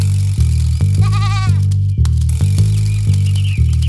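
Sheep bleating in an animated children's story, a wavering bleat standing out clearly over a loud, steady rhythmic music bed with a repeating pulse.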